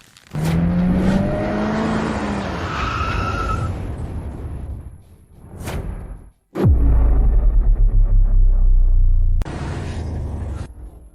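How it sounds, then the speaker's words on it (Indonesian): Rolls-Royce Phantom special edition luxury car heard close, with a rising whir and rumble, then a sudden deep engine roar that holds steady before cutting off, joined by other brief swooshes and short bursts of sound. "Ini Rolls-Royce Phantom, edisi khusus. Mobil mewah kelas atas yang hanya ada 10 unit di seluruh dunia."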